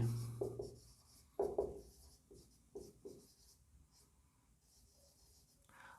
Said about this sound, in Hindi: मैं यहाँ लिख ही देता हूँ AB